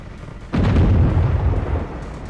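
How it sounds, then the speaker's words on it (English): Heavy railgun fire aboard a battle carrier in a video game, an abrupt loud boom that swells into a sustained deep rumble and roar lasting over a second, with no talk over it. "Railguns are firing on the battle carrier."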